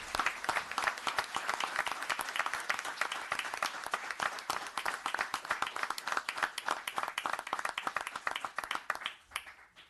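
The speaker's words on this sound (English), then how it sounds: "Can I get a very nice round of applause for Captain Justin Foley?" Audience applause for Captain Justin Foley at a town board meeting, crisp individual claps from a modest crowd, sharp and close, thinning out and dying away near the end.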